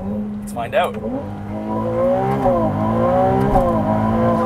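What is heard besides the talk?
Ferrari 296 GTB hybrid supercar engine accelerating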